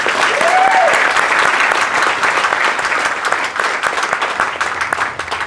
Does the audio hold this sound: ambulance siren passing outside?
no